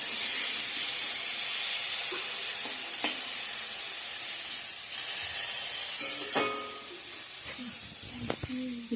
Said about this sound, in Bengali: এদিকে চাল কুমড়া ভাজাটা আমি বসে দিয়ে দিয়েছি।